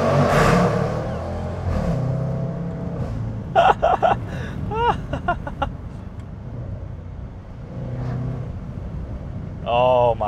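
A Jaguar F-Pace SVR, a 550 hp SUV, revs its engine inside a tunnel with echoing swells and rising whines, while a voice talks over much of it.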